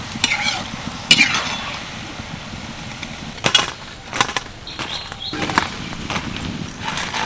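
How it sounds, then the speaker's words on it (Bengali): Palm fruit fritters, balls of batter, bubbling and sizzling in hot oil, with loud scrapes and clacks of a spoon or slotted ladle against the pan as they are turned and lifted out. "পরেরগুলোও বেশ সুন্দর করে ভেজে নিয়েছি এগুলোকে এবার তেল থেকে তুলে নেব"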